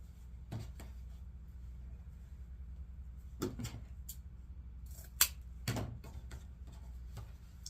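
Scissors snip through mesh wreath ribbon, cutting it flat across in a few sharp, close, separate clicks spaced over several seconds in a quiet room.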